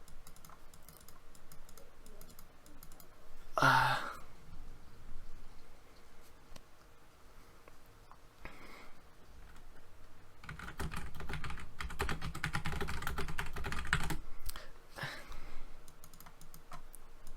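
A computer keyboard is typed and clicked during an online Pokémon battle. The keystrokes are close and irregular, with a sharp burst early on and a dense stretch of rapid clatter near the end.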